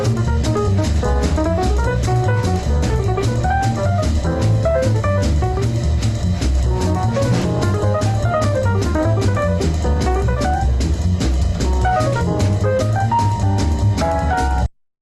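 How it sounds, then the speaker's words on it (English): Jazz piano improvising haltingly over a tune, played with a rhythm section, dense and steady throughout, with uneven melodic runs that break off and restart before stopping abruptly at the end. "what we're gonna hear now is the piano player is gonna try to improvise"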